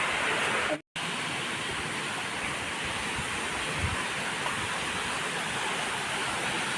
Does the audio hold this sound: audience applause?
no